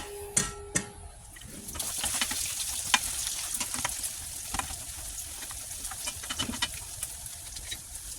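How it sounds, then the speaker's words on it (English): Bacon sizzles and crackles in a heated pan in a steady, moderately quiet fry scattered with sharp pops, after a couple of clanks as the strips go in. "Now that our pan's heated up, we're going to bring this bacon over and get it cooking."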